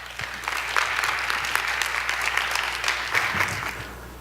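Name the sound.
applause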